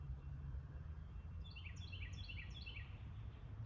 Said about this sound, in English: I'm tuning in and hearing birds in the background.